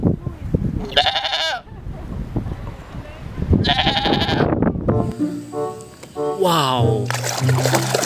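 A toy goat's bleats sound in short, wavering cries amid water splashing as toy animals get cleaned, with a few other bleat-like calls and some background voices.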